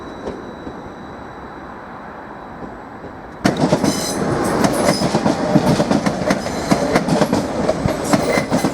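A Class 755 train departs Norwich station bound for Great Yarmouth, a low idle hum giving way to loud rumbling and rhythmic wheel clatter as it pulls away close by, steady to the end.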